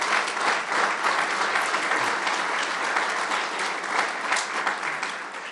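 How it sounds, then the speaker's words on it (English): A crowd at a public bridge-ramp opening ceremony applauds steadily and loudly, a dense continuous wash of clapping that holds for several seconds before easing slightly. "Give them a big round of applause."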